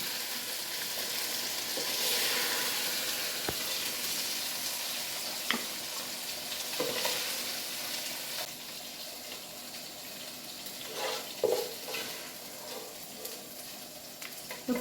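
Chicken sizzles in hot oil, a steady broad frying hiss running throughout with occasional clinks and scrapes from a utensil, close and moderately loud.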